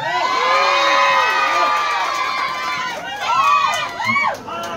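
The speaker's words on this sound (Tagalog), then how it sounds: "Kanina pa kayo tili ng tili. Magtilian uli kayo." A crowd shrieking and cheering at an outdoor gathering for residents hit by a fire in Sampaloc, with loud, continuous high-pitched screams and whoops rising and falling close by.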